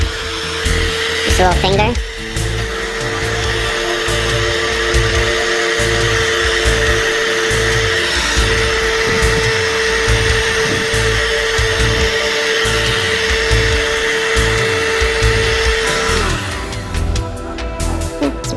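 Heat gun warming carbon vinyl on a Corvette C7 emblem, a loud steady blowing whir running almost continuously at close range and then stopping near the end, with a person briefly talking over it.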